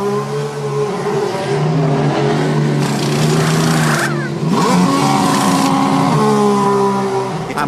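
Formula 1 cars idling and revving in the pit lane at the 2014 Monaco Grand Prix: loud, steady, close engine drone with shifting harmonic pitches as several cars creep and rev in a queue.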